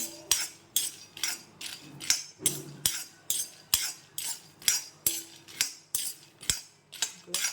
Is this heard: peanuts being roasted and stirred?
yes